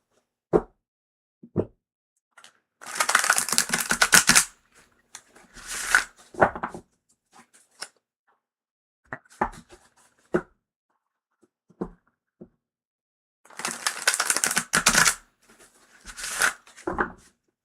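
Tarot cards are shuffled in bursts of riffling, flapping rustle, separated by soft taps and table knocks, close up with no voices.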